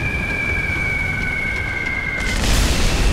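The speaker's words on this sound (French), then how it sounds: "Je vais me prendre une bombe." A bomb explodes in the tank mode of the video game War Thunder. A steady engine drone with a high whine gives way near the end to a sudden loud, broad blast that keeps roaring.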